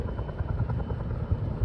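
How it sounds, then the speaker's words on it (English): Firefighting water-drop helicopter flying over a raging wildfire near Bear Mountain in Big Bear, its steady rotor thump and engine drone continuous and fairly close throughout, with no talk. "There's another chopper, maybe that's one of the water choppers."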